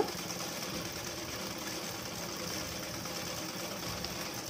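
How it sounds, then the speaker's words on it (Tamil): A sewing machine double-stitches a nighty in a steady, continuous whirring hum with a fine mechanical rattle, running close and unbroken with no talking. "இதே மாதிரி லாஸ்ட் வரைக்கும் தைச்சிக்கோங்க"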